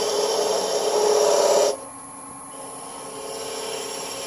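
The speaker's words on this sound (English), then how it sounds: "I'm doing this all with a detail spindle gouge" A detail spindle gouge cuts a spinning wooden honey dipper on a lathe, a steady loud scraping hiss that stops abruptly partway through, leaving only a low motor hum.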